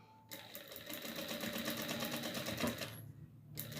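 A domestic sewing machine set to a long stitch of about 4.5 to 5 runs a visible seam along the edge of a rag doll's fabric hat, a close, fast rhythmic clatter lasting nearly three seconds before stopping.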